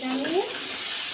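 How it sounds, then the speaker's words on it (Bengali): Potatoes fry in a pan with a soft, continuous sizzle, joined briefly by a faint stirring scrape near the start. "ভেজে নিব, আলুটা ভেজে নিব।"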